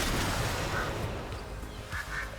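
Polymorphed players quack as ducks in World of Warcraft, a few short nasal quacks popping out over busy raid combat noise and game ambience.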